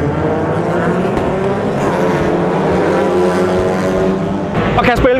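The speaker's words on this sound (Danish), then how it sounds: "Bilerne launcher." TCR touring race cars at the Jyllandsringen circuit launch off the start together, a loud, continuous pack of engines roaring and revving at close range with rising pitch as they accelerate, under excited talk.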